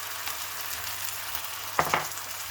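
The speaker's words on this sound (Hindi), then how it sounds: "अब हम सारे चिकन के पीस को इस तरह से इसमें डाल देते हैं।" Marinated chicken pieces sizzle in a pan over a medium flame, a steady crackling hiss broken near the end by two sharp clatters of the pieces being dropped in or stirred.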